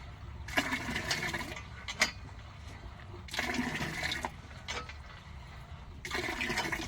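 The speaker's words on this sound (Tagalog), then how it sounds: "Consistent yung dami ng tubig na lumalabas." Water from a hand pump gushes out in bursts of splashing roughly every three seconds as the pump is worked, with faint clanks between pours and no talk.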